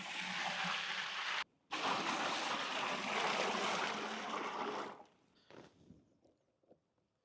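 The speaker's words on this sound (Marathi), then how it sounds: "आपण आता अंडे उकडायसाठी पाणी टाकून घेऊ पातेल्यामध्ये।" Water poured into a cooking pot for boiling eggs in a village kitchen, a steady close gushing stream lasting about five seconds with one brief break, then a few faint clinks and splashes as it stops.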